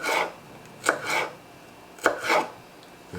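A knife slicing through seeded vegetables on a cutting board, a few close, distinct strokes, each with a sharp tap followed by a brief rasping draw, spaced apart with quiet between them.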